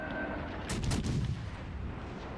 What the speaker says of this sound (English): Let's see if we can just get one more volley of AP out.